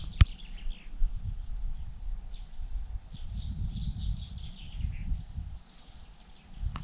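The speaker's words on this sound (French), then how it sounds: "On vous laisse écouter les oiseaux" Several birds sing and chirp in a calm outdoor setting, with repeated high twittering phrases over a low steady background rumble and a faint insect hum.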